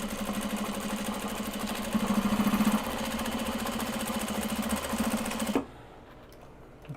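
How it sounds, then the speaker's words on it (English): A domestic sewing machine runs steadily, stitching two knit fabric pieces placed right sides together, with a constant motor hum that swells briefly, then stops abruptly near the end, leaving quiet. "Now we sew this together."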